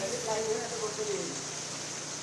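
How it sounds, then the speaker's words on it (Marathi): Steady, dense hiss of water leaking through a subway wall in Chunabhatti, Mumbai, during rain, streaming and spattering nearby, continuous throughout, with faint voices in the background. "चुनाभट्टीच्या सबवेमध्ये भिंतीतून अशा प्रकारे पाण्याची गळती होते"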